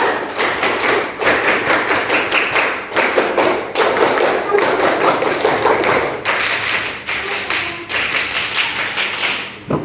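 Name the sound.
children doing the Pramuka scout clap three times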